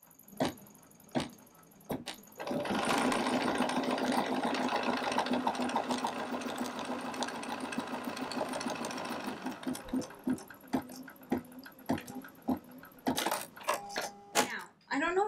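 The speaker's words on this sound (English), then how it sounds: "You can tell here, my machine embroidery" An embroidery machine stitches a quilt block, a fast steady mechanical chatter and hum running for several seconds at moderate level, bracketed by clicks and handling knocks, with a voice talking around it.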